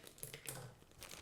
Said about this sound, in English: Cut this bag open.